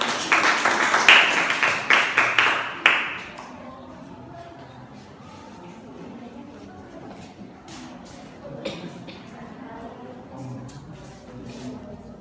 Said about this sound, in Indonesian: Mari kita berikan tepuk tangan yang meriah kepada tim panel 3 dan tim panel 4